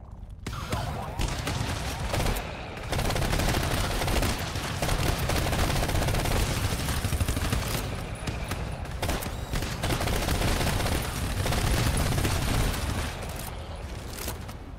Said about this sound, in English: So up close, shotgun right. is really good.